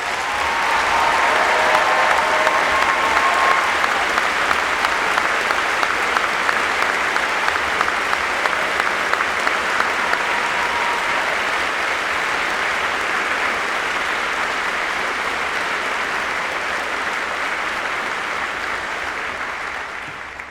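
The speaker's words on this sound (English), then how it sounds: "Jared Roderick, Nick Sorensen, and Suhas, please stand for a well-deserved round of applause." Sustained applause from a school audience at a senior class commemoration ceremony, a dense, steady wash of clapping that holds for about twenty seconds before tapering slightly at the end.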